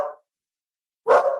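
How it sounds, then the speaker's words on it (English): A dog barks excitedly, a brief bark trailing off at the start, then a pause of silence before another louder, closer bark. "Oh, my dog's excited."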